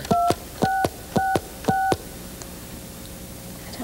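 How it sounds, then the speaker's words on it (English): Four touch-tone telephone keypad beeps pressed in a quick steady rhythm, playing the opening of Mary Had a Little Lamb, each tone clear and close, followed by quiet room hiss. "when you touch those little buttons on the phone and make those odd sounds"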